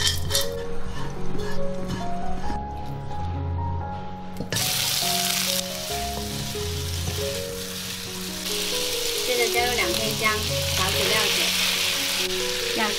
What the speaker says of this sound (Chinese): 把冰糖倒进来，炒出糖色。